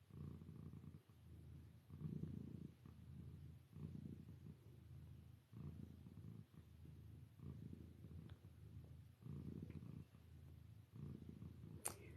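A domestic cat purrs steadily and close up, a low rumbling rhythm of repeated breath cycles roughly every second, continuous for the whole stretch with no talk.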